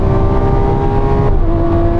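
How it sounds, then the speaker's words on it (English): An older Lamborghini Aventador launches hard, its engine a loud, close, continuous roar rising in pitch before a quick gear change drops the tone and the pull resumes. "to launch this old Aventador"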